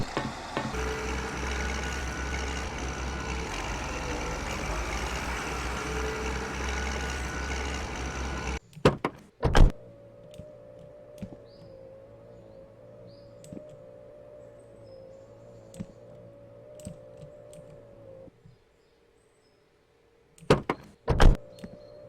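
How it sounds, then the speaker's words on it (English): A tractor door in the farming video game Farm Expert 2017 closes with a sharp thud right after a steady engine drone cuts off. A quiet idle follows, and a second pair of knocks comes near the end. "when you get out of them, it makes a door closing sound like it would on the normal tractors"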